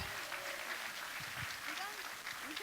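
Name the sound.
audience applause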